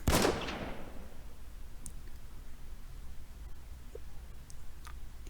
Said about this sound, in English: Tomi's chest burst with a gunshot.